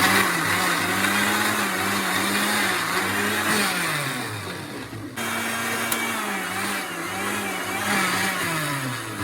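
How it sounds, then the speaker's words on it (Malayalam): A mixer grinder whirs steadily as it blends a strawberry milkshake, a loud continuous motor drone that briefly stops and then restarts. "മിക്സിയിൽ അടിച്ചിട്ട് വരാം."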